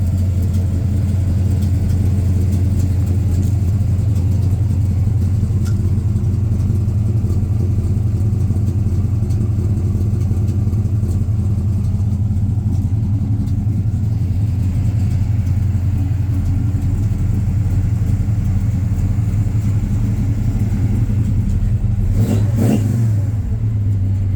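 A 1967 Suburban engine runs at a steady, sticking high idle with a constant deep rumble, then briefly revs near the end, loud and close with no talking.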